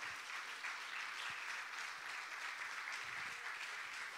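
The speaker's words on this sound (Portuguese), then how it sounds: "E as palmas exaltem somente o nome santo do Senhor Jesus Cristo." A church congregation claps together in praise, a dense, even wash of applause that holds steady and fills the room.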